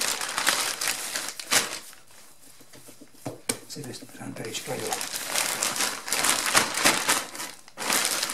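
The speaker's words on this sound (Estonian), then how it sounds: "Avakene kilekott." A thin plastic bag is opened and handled in a home kitchen while making cabbage pies, with close, crisp crinkling in bursts, loudest at the start and end, partly under a person talking.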